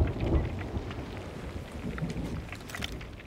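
A thunderstorm in the pirate game Sea of Thieves, with dense rain hissing steadily and deep low rumbles swelling and fading beneath it, no voices over the weather.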